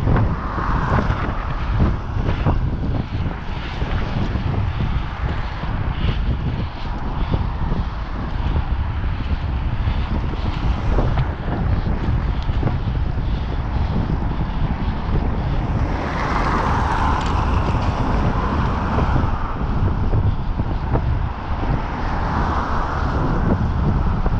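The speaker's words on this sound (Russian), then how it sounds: "Ебаный ветер." Strong gusting wind roars continuously across the microphone outdoors, a loud, unbroken rumble that swells and buffets throughout.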